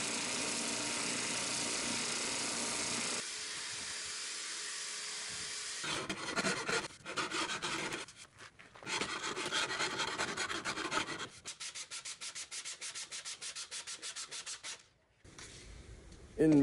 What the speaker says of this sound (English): I can sand out the rest.